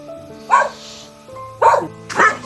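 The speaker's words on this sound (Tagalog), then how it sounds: "may mga alaga tayong aso dito. Medyo maingay." Pet dogs on a farm bark loudly and close by, three sharp separate barks with short pauses between them.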